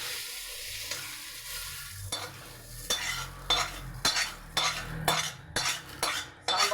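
Sautéed radish is tipped into a pot of sambar and stirred with a metal spoon, a soft sizzle followed by rhythmic close scraping and clinking strokes against the pan.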